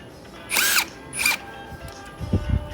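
A power drill drives a screw while mounting a retractable clothesline with stainless steel rope, two brief high whining bursts a moment apart, followed by faint low knocks.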